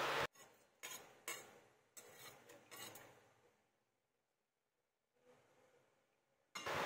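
A utensil stirring coconut milk with ginger, garlic and onion in a pot, several quick scraping strokes in succession, then a quiet pause before more faint stirring and a final sharp scrape, close and alone.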